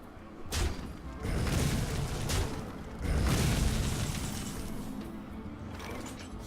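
Arcane Explosion spell effect in the Hearthstone video game, two loud booming bursts a few seconds apart, each trailing off into a rumbling magical wash.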